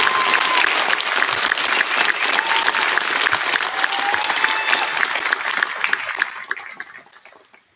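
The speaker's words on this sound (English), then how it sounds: "Let's give our commencement speakers one last round of applause." An audience at a senior awards night and graduation ceremony claps in sustained applause, full and even for several seconds before tapering off to scattered claps.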